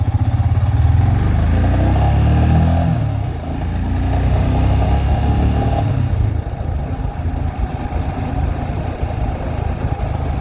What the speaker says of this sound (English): The engine is getting into that sweet spot where it gets smoother all the time